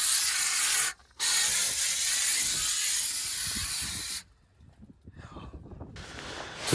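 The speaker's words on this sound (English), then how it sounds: "go to town with this steamer" A steam cleaner jets hot steam across a mouldy car interior, a loud broadband hiss that cuts off briefly, resumes, then stops, leaving soft rubbing and handling noises before the hiss returns.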